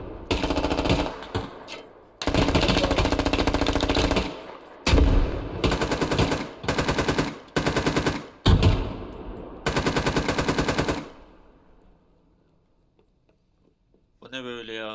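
Machine gun fire in the tactical shooter Squad: several long sustained bursts of rapid automatic shots separated by short gaps, fairly close and loud, fading into quiet near the end.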